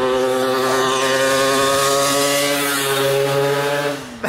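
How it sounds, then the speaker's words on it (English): A very loud motorcycle engine droning steadily close by on a street in Taha'a, French Polynesia, a sustained harmonic roar that fades at the end. "That's a very loud motorcycle."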